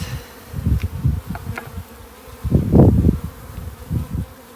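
Honey bees at a double nuc hive hum in a low, steady buzz that swells and fades in a few closer passes, with one louder surge midway, and no voices.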